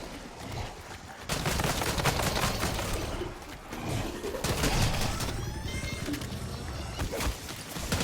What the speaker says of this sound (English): War machine prepping fire